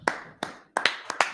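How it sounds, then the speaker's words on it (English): Six crisp hand claps from a small group at a history class gathering, close and distinct, falling in a loose uneven rhythm with quiet gaps between them. "Clap it up."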